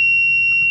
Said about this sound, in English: When the line pulls out, it reconnects your batteries and it sounds an alarm.